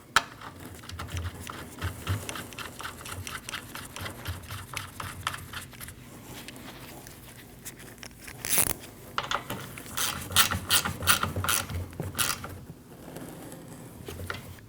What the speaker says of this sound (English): Now you can install your 8mm bolt and tighten it down.